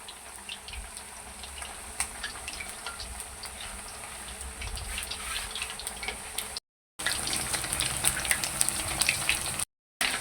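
Chicken wings fry in hot oil with only a little red chili powder, giving a steady, moderately quiet crackling sizzle with a faint watery hiss. It runs alone without talk and breaks off for two short silent gaps.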